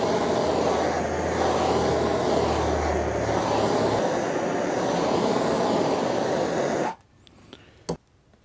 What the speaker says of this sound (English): And for this, I'm going to use a propane torch.